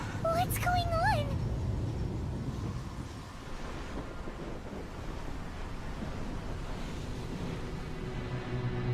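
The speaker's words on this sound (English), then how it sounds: "Just the waves are so big that like going into Liyue Harbor" Large waves surging at Liyue Harbor in Genshin Impact, heard as a constant, rough wash of surf and wind-like roar, with brief voices at the start.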